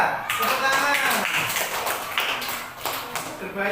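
Classroom students clapping for a winning group during a lesson, a brief burst of uneven, close handclaps with voices mixed in and a few sharp taps toward the end.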